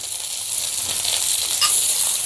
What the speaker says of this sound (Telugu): ఇప్పుడు వీటన్నిటిని మంచి బంగారు వర్ణం వచ్చేంత వరకు ఫ్రై చేసుకుందాం